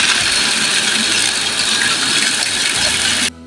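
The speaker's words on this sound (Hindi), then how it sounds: "अब ड्राई फ्रूट्स को हल्का सा ठंडा करके इन्हें ग्राइंड कर लेते हैं ग्राइंडर में डाल के।" An electric grinder pulverises roasted dry fruits for panjiri with a loud, steady, rattling whir that cuts off abruptly near the end.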